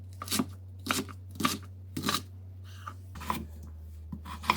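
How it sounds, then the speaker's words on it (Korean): A knife chops napa cabbage into thin square pieces on a cutting board, giving a steady series of crisp, close cuts roughly every half second, with a low steady hum underneath. "무르기 쉬운 끝부분은 잘라주고 나박나박 썰어 줍니다."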